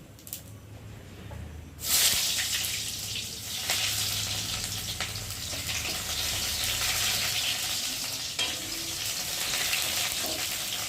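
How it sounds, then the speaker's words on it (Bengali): Chopped raw onion hits hot oil with cumin seeds and bursts into a loud, steady sizzle that keeps going without a break. Before it, there's a moment of quieter frying. "এখন আমি কুচিয়ে রাখা একটা কাঁচা পেঁয়াজ দেব"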